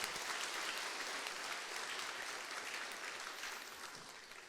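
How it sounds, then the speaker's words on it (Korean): A congregation applauds during a Sunday worship service at a church, a dense, even patter of many hands clapping that holds steady and then tapers slightly, with no voices over it. "우리 박수 한번 해주시기 바랍니다"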